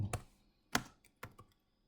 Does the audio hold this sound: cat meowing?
no